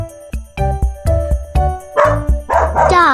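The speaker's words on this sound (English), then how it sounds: "Dog." A dog barks close and loud in a quick run of sharp yips and barks, the last few rising into whining, higher calls, set against a steady rhythmic thump in the background.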